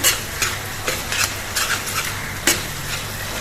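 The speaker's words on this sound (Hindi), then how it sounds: "तो कच्चा है तो इसको हम थोड़ा सा भून लेते हैं।" Ginger stir-fried in a pan for matar paneer sizzles steadily, with a spatula scraping and stirring in repeated short strokes.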